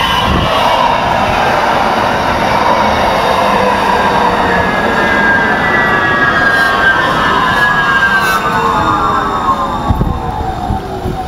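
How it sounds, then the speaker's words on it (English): A train rumbles past close by at a level crossing, loud and continuous, its wheels squealing and grinding in long drawn-out tones that slowly fall in pitch. "and now I'm blocked by a train."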